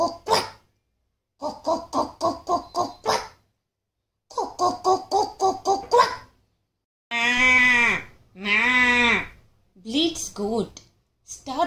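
A voice mimics a goat's bleat with two long, wavering cries after a run of quick, rhythmic vocal bursts.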